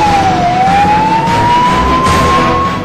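A fire engine siren wails steadily and loudly at a warehouse fire in Malviya Nagar, its pitch dipping then slowly rising, with no talking over it.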